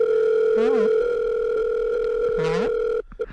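A steady two-tone telephone dial tone hums continuously for about three seconds, with two brief voiced sweeps over it, then cuts off abruptly.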